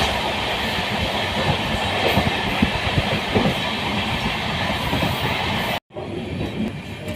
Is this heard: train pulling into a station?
yes